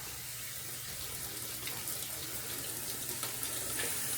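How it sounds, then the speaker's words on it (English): Water from a garden hose pipe sprays steadily onto flowers in a garden, a continuous close hiss and splash with no sprayer attachment, running unbroken throughout. "I'm out here watering the flowers in the garden this morning."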